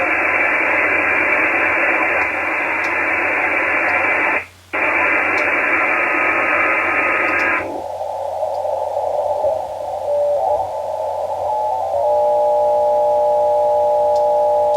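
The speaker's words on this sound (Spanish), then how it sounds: "Estos son balizas que aparecen de vez en cuando." Shortwave radio tuned near 14.195, with steady beacon tones cutting in and out over hiss and static; the carrier drops briefly, then shifts to a lower tone and later a warbling pitch, all without voices.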